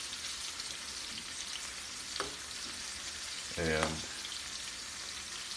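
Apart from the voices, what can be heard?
shrimp frying in a pan with olive oil and garlic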